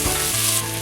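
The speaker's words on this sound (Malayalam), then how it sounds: "പിന്നീട് ഇഞ്ചി ഇടുക, കറിവേപ്പില ഇടുക. ഇത് നന്നായി വഴറ്റിയെടുക്കുക." Ginger and curry leaves sautéing in hot oil in a pan for Kerala beef curry, a loud close sizzle with a brief stirring scrape near the start, no voices.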